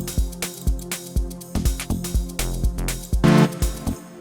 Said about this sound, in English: Now I'm gonna add a lead from Nexus. They have got some sharp leads.